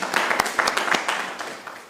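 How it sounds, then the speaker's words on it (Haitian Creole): Scattered hand clapping from a small crowd at a ranking announcement on a Haitian reality show, a brief uneven patter of claps rising and thinning out. "Applaudissements."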